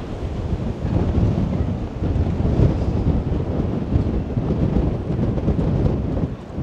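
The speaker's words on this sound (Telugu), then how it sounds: "ఇక్కడ నుంచి ఇక్కడ చాలా విండ్ వస్తుందండి." Strong wind high in the Alps mountains blusters loudly and steadily against the microphone, a dense low roar that surges slightly throughout with no voices.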